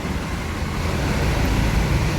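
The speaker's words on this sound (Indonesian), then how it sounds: "Ada bus pariwisata nih." A tour bus rolls through a parking area, a broad, loud rumble of engine and road noise that swells slightly over a couple of seconds with no voices.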